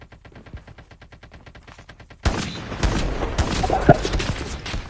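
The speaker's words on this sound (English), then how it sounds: "Oh my god, I'm getting sniped." Video-game gunfire: a rapid, even string of quiet distant shots, then a sudden jump to loud, close shooting with sharp cracks and sniper hits over ongoing battle noise.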